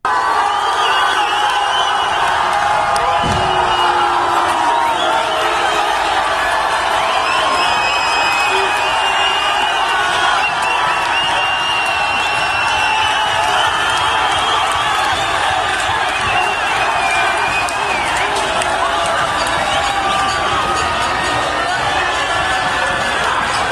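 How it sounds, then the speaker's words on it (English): A large crowd at an anti-government protest in Chile cheers and shouts continuously, loud and dense, with whoops and voices blending into a steady roar. "listen to all the cheering going on by these people"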